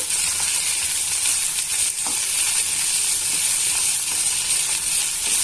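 Okra sizzles and crackles in a seasoned iron pan over medium flame, a continuous bright frying hiss close up, with occasional soft stirring scrapes and no talking.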